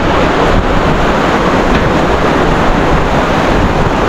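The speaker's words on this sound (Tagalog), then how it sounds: "Lakas ng hangin, oh." Steady, loud roaring wind noise buffeting the microphone during a rainstorm, a dense rush with no pauses throughout.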